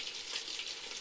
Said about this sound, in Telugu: అందులోకి అయితే చికెన్ ఫ్రై అయితే చేస్తున్నాను